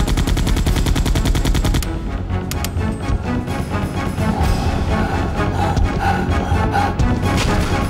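Soldiers in Resident Evil 2 on the 1998 PlayStation fire guns in rapid, dense, loud bursts of automatic gunfire. The shots clatter continuously and sit close up throughout.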